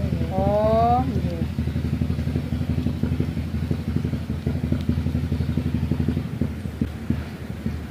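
A motorcycle engine idles nearby with a steady, throbbing low putter of rapid even pulses throughout, while a person talks over it at the start.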